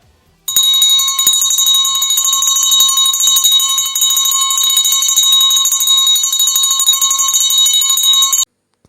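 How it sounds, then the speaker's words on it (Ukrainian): An electric school bell rings continuously for about eight seconds, loud and close, marking the first lesson at a September first school ceremony. "Не вистачає лише неповторних переливів шкільного дзвоника."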